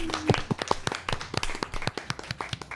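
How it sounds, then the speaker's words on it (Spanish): Small congregation at a church gathering gives a round of applause, scattered individual claps close by with uneven rhythm, moderately quiet. "Un aplauso"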